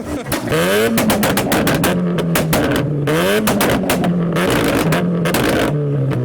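A Mazda MX-5 engine revs hard and loud at a car meet, rising and falling in repeated bursts with a raspy exhaust note, close by.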